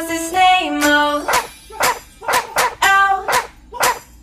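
A cartoon dog barks in the children's song Bingo: a short sung musical phrase opens, then a rhythmic series of five or six loud, clear barks lands on the beat.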